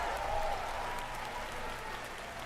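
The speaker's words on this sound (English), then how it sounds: "Why are you clapping?" Audience applause at Bethesda's E3 2019 showcase: a broad, steady wash of clapping from a large crowd, sustained evenly throughout with no talk over it.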